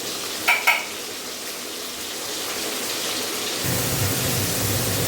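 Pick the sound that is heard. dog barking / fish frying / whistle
fish frying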